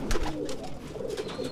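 Soft pigeon cooing with low, murmuring calls, fairly close, over a steady background hum.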